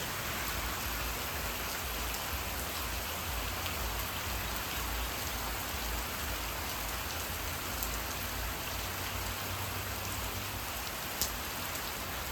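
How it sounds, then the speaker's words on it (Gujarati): Heavy rain pouring steadily on an open farm area, a dense, constant hiss of drops on surfaces with no breaks, close and fairly loud throughout. "સારું વરસાદ પડે સારું."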